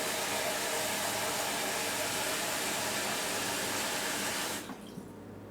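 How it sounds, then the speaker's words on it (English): A tap runs hard into a cooking pot, filling it about three-quarters full with a loud, steady rush of water that cuts off near the end and leaves a quiet tail. "we're going to refill the pot about 3/4 full"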